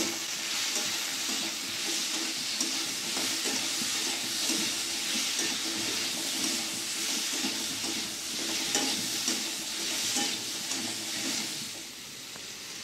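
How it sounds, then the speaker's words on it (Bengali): Raw hog plum pickle being stirred with turmeric and salt, a continuous close hiss and sizzle with soft scraping from the stirring running steadily throughout. "দিয়ে দেবো হলুদের গুঁড়ো, দিয়ে দেবো নুন, ভালো করে নেড়ে নেব"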